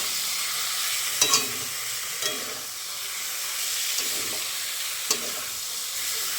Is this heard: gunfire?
no